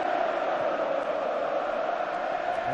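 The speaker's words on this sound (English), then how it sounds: "Just listen to the noise inside the stadium now" Football stadium crowd at an Atletico Madrid versus Real Madrid Copa del Rey match, producing a steady, dense roar of massed voices with no clear breaks, loud and continuous throughout.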